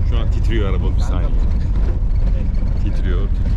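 Taxi car shaking and rattling as it drives past a Four Seasons Hotel in Syria, a steady dense mechanical rumble with rattles running throughout while people talk over it.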